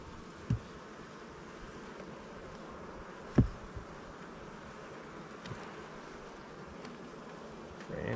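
Honeybees buzz around an open hive during a summer hive check, drones among them, with a constant close swarm hum and a few sharp knocks from handling the frames.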